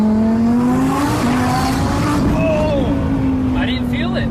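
A 1200-horsepower twin-turbo Audi R8 on a test drive, heard from inside the car: a steady, loud engine drone rises gradually in pitch as it accelerates, with voices briefly audible over it.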